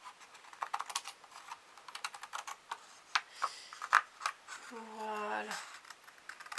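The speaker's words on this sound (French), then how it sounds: "Je crois que je vais remettre un petit coup de ciseau." Scissors snipping paper while trimming a handmade goodies card, a string of quick close crisp clicks and cuts in an irregular rhythm, with a brief spoken word near the end.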